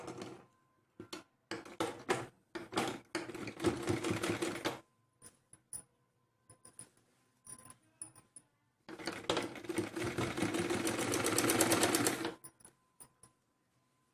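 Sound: sewing machine stitching a blouse frill neckline

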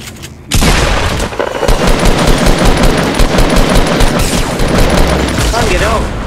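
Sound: gunfire in the video game Fortnite

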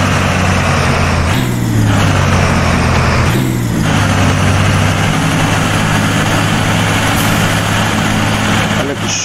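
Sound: Scania truck engine in video game Euro Truck Simulator 2

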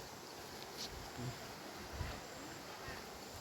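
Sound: flowing water stream

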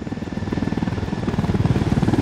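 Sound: helicopter in the video game Ghost Recon Wildlands

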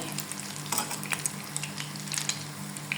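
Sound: meat pakoras deep frying in oil

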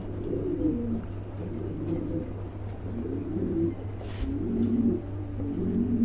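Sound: pigeons cooing

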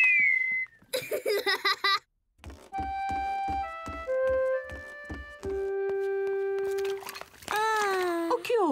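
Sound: whistling

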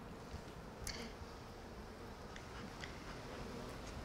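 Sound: honeybees buzzing during a summer hive inspection

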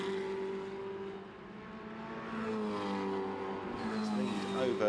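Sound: monoposto race car passing at Brands Hatch

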